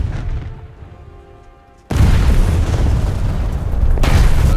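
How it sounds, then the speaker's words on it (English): Aircraft bombs detonating in War Thunder: after a quieter engine drone, a sudden loud, deep blast erupts into sustained rumbling, then a second explosion hits near the end, close and booming. "Those bombs didn't land anywhere near the base"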